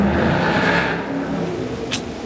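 Ford Mustang exhaust rumbling steadily at close range, a continuous low engine drone with a slight swell early on, alone without talk.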